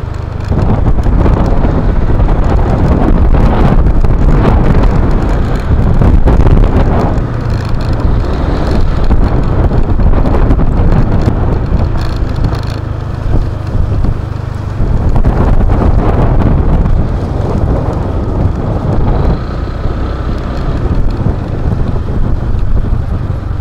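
Strong mountain wind in Buguias, Benguet roars and buffets the microphone without a break, loud and rough throughout with no speech.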